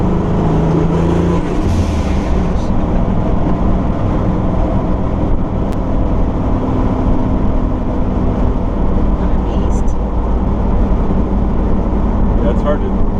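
A turbocharged 460 truck cruises in fourth gear with a loud, steady low engine drone heard from the cab for several seconds, with a person talking over it.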